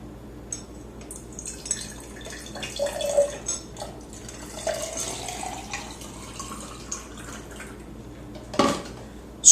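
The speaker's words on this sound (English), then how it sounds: "Add 7 ounces of water." Water is poured into a glass to make cherry juice from concentrate, a close trickling, splashing stream with changing pitch as the glass fills, ending in a few light drips and clinks.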